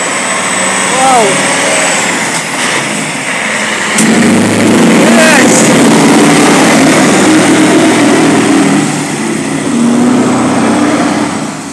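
A cabover truck's engine revs hard during a wheelie, a loud, sustained roar that swells midway and holds, with people exclaiming over it.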